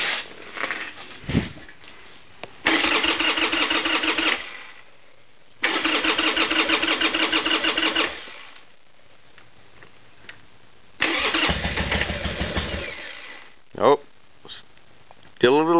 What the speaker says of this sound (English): That is the starting of the Harley Davidson.